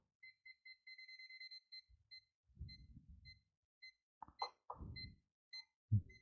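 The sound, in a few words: WinApex ET8101 multimeter NCV sensor beeping near a cable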